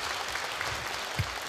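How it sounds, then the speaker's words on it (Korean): Audience applause greets a speaker at a Buddha's Birthday ceremony in a temple hall, a brief, steady patter of many clapping hands at moderate distance. "큰 박수로 맞아주시기 바랍니다."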